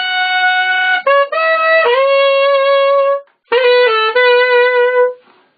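Tenor saxophone plays a sustained, bright melodic phrase with a growled edge, two long legato passages separated by a brief pause, loud and close with no talking.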